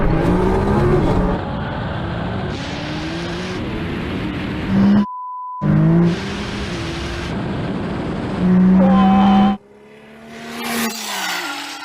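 A tuned Nissan GTR, a tuned Audi R8 and a tuned McLaren 720S launch in a drag race, their engines roaring loud and close through rising gear-by-gear pulls. Brief beep tones break in before the engines fade and wind noise takes over.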